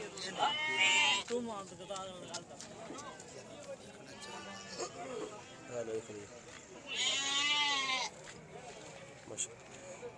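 Goats bleat repeatedly nearby amid a busy crowd at a livestock market in Talagang, Punjab, with people talking throughout and a loud, drawn-out bleat standing out near the end.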